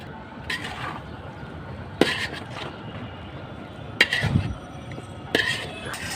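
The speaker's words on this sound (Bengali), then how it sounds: "আমি এটা এখন একটু নাড়াচাড়া করবো" A metal spoon stirs chicken biryani made with basmati rice in a cooking pot, giving four sharp clinks and scrapes against the pot at irregular intervals over a quiet room hum.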